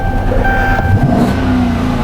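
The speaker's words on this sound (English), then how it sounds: "Want to give it a quick rev." A 2012 Dodge Charger V8 with a misfire runs loud and close, its engine note swelling briefly in a quick rev over a steady rumbling idle.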